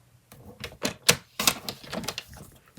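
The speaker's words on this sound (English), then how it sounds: "I'm just gonna cut the whites of it." Scissors cut white pieces off paper craft card in a run of crisp, close snips with uneven spacing, some louder than others.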